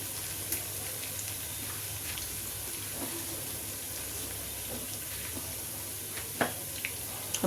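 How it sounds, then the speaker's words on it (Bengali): Hot water poured into a pot of basanti pulao, a steady, even rush of water with a faint sizzle beneath and a few small clinks near the end, no voices. "এখন আমি এর মধ্যে গরম পানি ঢেলে দিব।"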